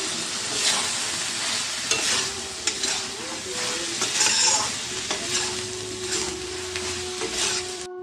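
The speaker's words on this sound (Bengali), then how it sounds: "তো পটল আলুকে ভালো করে কষিয়ে নিচ্ছি, মশলা করা হয়ে গেছে" Spiced pointed gourd and potatoes being sautéed in a pan, with a steady sizzle and repeated scraping stirs of a spatula, close and fairly loud with no talk.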